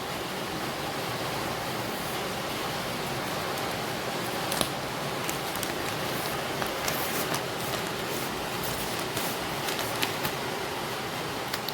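Rain falls as a steady, even hiss throughout, with a few faint crackles and ticks on top and no voices.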